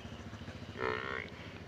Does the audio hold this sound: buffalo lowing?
yes